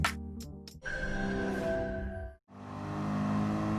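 A Mercedes Gr.3 race car engine screams through a hot lap at Lago Maggiore West in a racing game, with sharp gear-change blips, a long rising rev, a brief cut on a shift, then renewed hard acceleration, loud and close.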